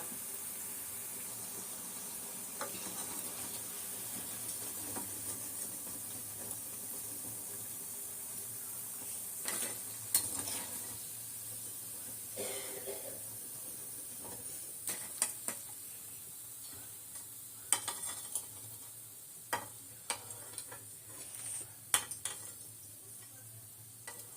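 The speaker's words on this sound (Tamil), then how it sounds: "அம்மா போண்டா சுட்டேன்" Karabonda snacks fry in hot oil at home for an evening treat, a soft continuous sizzle under intermittent clinks and scrapes of a utensil stirring the pan, with occasional sharper taps, no voices.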